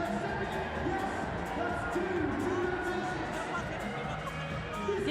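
Crowd noise at a London 2012 Paralympic sitting volleyball match, USA against Brazil, in the XL arena, a steady hubbub with faint cheering and whoops as a voice talks over it.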